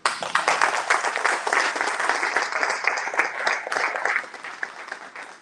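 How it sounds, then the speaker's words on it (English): Sustained audience applause fills a debate night hall, a dense wash of many hands clapping at steady loudness for several seconds before easing slightly near the end. "I think you should give yourselves a round of applause for being a great audience tonight."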